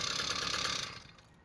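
A small 48cc engine on a motorized bicycle runs with a buzzing, rattling drone, then cuts out as the kill switch is pressed, the sound dropping away to near silence within the last half second.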